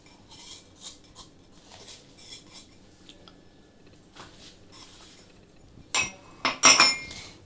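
A spoon mixing flour, rice flour and semolina in a bowl gives soft scrapes, followed by several bright metallic clinks against the bowl's rim toward the end.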